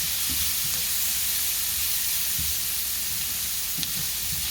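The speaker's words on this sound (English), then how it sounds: "I have some diced bell pepper, a yellow bell pepper in here, and some diced onion. I'm going to saute these up just a little bit." Diced yellow bell pepper and onion sauté in a hot pan, giving a constant dense sizzle and hiss with occasional low stirring scrapes, close and steady without speech.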